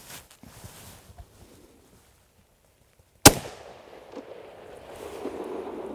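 A single loud, sharp crack from a Ruger No. 1 rifle, a short carbine-length gun fired outdoors, preceded by quiet rustling and followed by a fading rumble and ambient noise.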